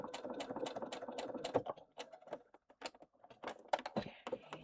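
A sewing machine stitches along a zipper seam edged with fusible fleece, a close, fast rattling whir in uneven bursts with short pauses between runs.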